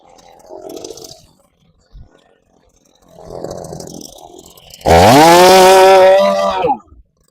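A chainsaw cutting down a thorny tree revs up loud and close, roaring steadily for about two seconds before cutting off, after quieter rustling and low background noise.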